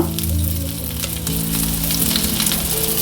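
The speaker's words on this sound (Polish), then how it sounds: "mieszam, żeby nabrały one tutaj wyrazistego smaku, zapachu poprzez takie podsmażenie się na maśle" Granulated garlic, hot paprika and salt sizzle loudly in butter as they are stirred in a pan for an asparagus cheese sauce, a close, continuous crackling frying sound with faint utensil scrapes.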